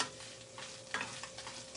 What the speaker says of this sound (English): Now, as this is sauteing, this will only take a couple minutes